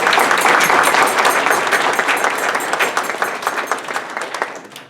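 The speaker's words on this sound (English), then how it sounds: "So please give yourself some applause." Loud applause from a crowd at a 75th anniversary fundraiser, dense clapping that holds steady and then slowly thins out toward the end.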